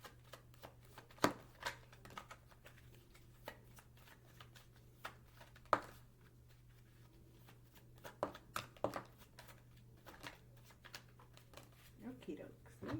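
Clue cards being shuffled and handled in a quiet room, with scattered soft riffles and flicks at irregular intervals, several sharper snaps standing out, and a steady low hum running underneath.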